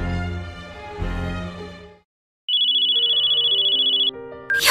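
Phone ringtone in the Code Geass Lost Stories game, a bright sustained electronic ring starting after a pause and lasting under two seconds, loud, preceded by game music.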